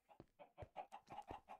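Chickens cluck in Minecraft, giving about eight short, evenly spaced clucks in a quick, bobbing rhythm. The clucks are quiet and heard alone.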